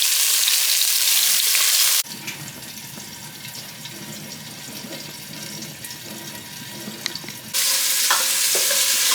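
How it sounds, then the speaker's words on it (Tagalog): Onions and tomatoes fry together in a pan for corned beef sinigang, a close, even sizzle lasting about five seconds, set between bursts of bright rushing hiss like running water. "mag translucent yung sibuyas tapos lumambot yung kamatis"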